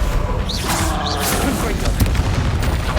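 Incendio fire spell cast in a Harry Potter video game on PC, hard mode: a dense, crackling burst of magical fire and impact noise, loud and continuous, with whooshing swells and no voice over it.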